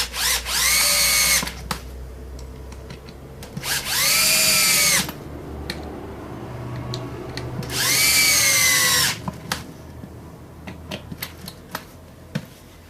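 Cordless power drill driving screws into a wooden jig for clearing an axe eye, three loud whining bursts of about a second and a half each, spaced a few seconds apart, with quiet handling clatter between.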